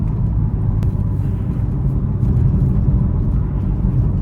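BMW M4 with about 500 horsepower cruising around 50 mph on bumpy back roads, a steady loud low engine and road rumble heard from inside the cabin.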